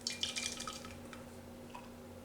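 Beer poured into a glass for a passion fruit margarita mix: a brief, faint splash and trickle with light dripping that fades out quickly.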